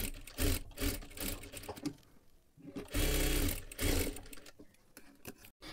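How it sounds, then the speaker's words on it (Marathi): A sewing machine stitching along the edge of a sleeve lining, bursts of rapid mechanical whirring and needle clatter that speed up, pause briefly and resume, loud and close. "आता इथे वरच्या बाजूला एकदम कडेकडेला आपल्याला पूर्ण शिलाई करून घ्यायचं आहे।"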